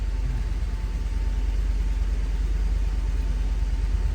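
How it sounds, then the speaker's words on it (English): A Ford F-150 pickup engine idles steadily throughout, a low continuous rumble close by with no talk over it. "I'm gonna turn on the engine and try the temperature climate control."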